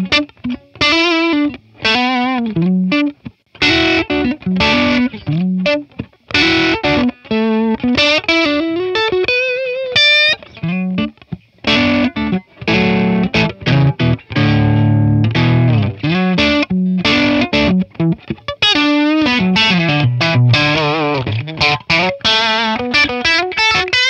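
Electric guitar played through a Klon Centaur clone overdrive pedal into a Matchless Laurel Canyon amp capture, giving a driven, crunchy tone with strummed chords and single-note lines, loud and continuous with brief gaps, no voices.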